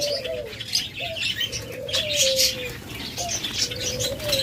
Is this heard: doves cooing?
yes